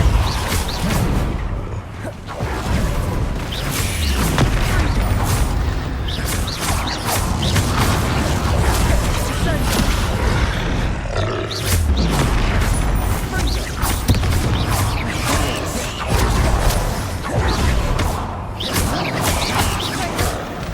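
Bombarda explosion spells from the Hogwarts Legacy video game, dense booming blasts and crashing impacts in a continuous loud stream of combat effects.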